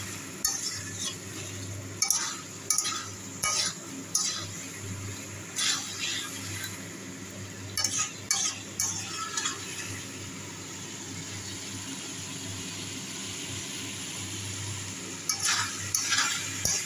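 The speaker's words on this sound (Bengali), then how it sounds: "ভালো করে একটু কষিয়ে নিচ্ছি" Jackfruit curry stir-fried in a pan: a steady soft sizzle with intermittent scraping and clinking of a spoon against the pan, close and alone with no talk.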